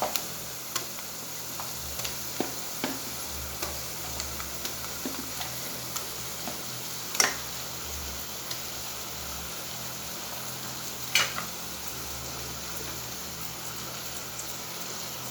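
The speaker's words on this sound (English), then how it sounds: "Now we'll add the meatballs." Meatballs frying in a pan for a creamy tomato gravy, giving a steady low sizzle with scattered light ticks and taps of stirring, two sharper clicks standing out, close and without talk.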